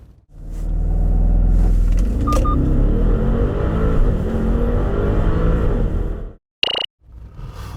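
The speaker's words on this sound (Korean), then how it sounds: "이 럭셔리 SUV가 얼마만큼의 가속 성능을 보여주는지 한번 확인해 볼까요?" A 2020 Bentley Bentayga V8 SUV's 550-horsepower engine roars as it accelerates hard, its pitch climbing through gears, then a brief electronic beep and the engine settling.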